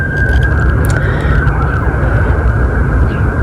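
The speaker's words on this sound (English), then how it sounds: "you hear the siren" An outdoor siren holds a steady wail, loud and unbroken over a heavy rumbling wash of traffic-like noise, with no talking.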